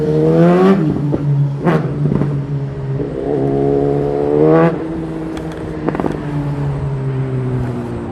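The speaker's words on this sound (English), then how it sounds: "Motorcycle versus scooter, who's gonna win? Motorcycle." A motorcycle revs and accelerates past on a New York City street, its engine note climbing in pitch over several loud surges, with other traffic noise and wind rushing around a rider on an electric scooter.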